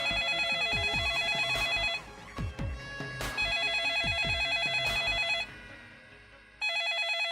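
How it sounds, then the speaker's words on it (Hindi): A telephone rings in a repeating electronic trill inside a home during a Hindi TV drama scene, bursts breaking off and resuming, with footsteps and light thumps underneath. "फोन बज रहा है"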